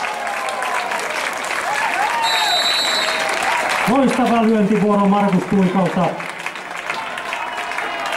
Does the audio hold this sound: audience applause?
yes